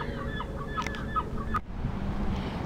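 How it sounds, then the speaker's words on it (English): Birds honk and cluck from the roof of the Bush Plume Museum at night, a few short calls and squawks, moderately near, over steady outdoor background noise. "Let's say goodnight to the Bush Plume Museum and all the birds on the roof."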